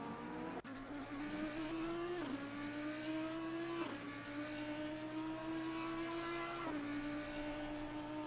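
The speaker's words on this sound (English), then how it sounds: "enjoy a bit the sounds of the cars that are coming through" Race cars roar past in Assetto Corsa Competizione during a Suzuka endurance race, engines droning loudly with rising pitch and gear changes, several passes blending into a sustained close howl with no talk.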